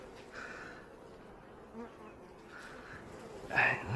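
Honey bees buzzing steadily at a hive during a Hanneman cage fitting, forming a close, continuous drone that swells briefly near the end, with no talking.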